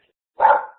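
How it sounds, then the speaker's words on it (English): A single dog bark, short and fairly loud, bursting out of silence and fading quickly, with no talking over it. "I apologize for that dog."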